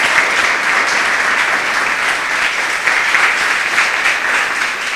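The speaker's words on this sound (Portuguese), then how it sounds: "Glorifique o seu Deus com suas palmas." A church congregation claps continuously, a dense sustained applause filling the room at close range and steady volume throughout, with no talk over it.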